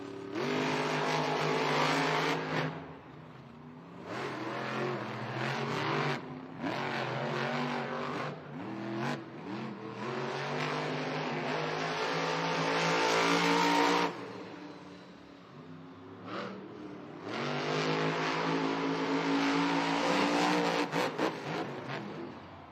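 Monster trucks race side by side at a Monster Jam stadium event in San Diego, Grave Digger among them, engines roaring loud and sustained with revving surges and brief drops, crowd noise beneath.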